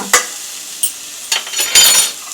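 Ginger garlic paste goes into a hot pan for a liver pepper fry and is stirred, with a few sharp spoon scrapes and clinks over a soft background sizzle, close and intermittent.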